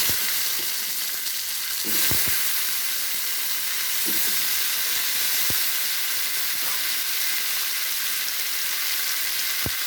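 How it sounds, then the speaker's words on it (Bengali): Potatoes and onion fry in oil with cumin, turmeric and salt, giving a loud, continuous hissing sizzle with a few sharp knocks and stirring clatters scattered through it. "আলুটা একটু ভেজে নেব।"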